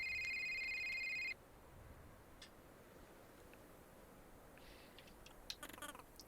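A phone rings in the video game A Short Hike: a bright electronic ringtone sounds at the start for just over a second, then stops, leaving quiet ambience with faint ticks and a short flutter of chirps near the end.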